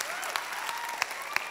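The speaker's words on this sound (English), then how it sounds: "I would like you all to give a huge, huge round of applause to our incredible band." Audience at a university glee show applauding the band, a brief steady burst of crowd clapping with a few sharper individual claps standing out.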